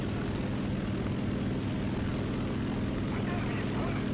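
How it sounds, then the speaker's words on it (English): A propeller aircraft engine drones steadily and loudly in the War Thunder video game, a continuous low rumbling buzz filling the whole stretch without breaks. "I got a plane after me"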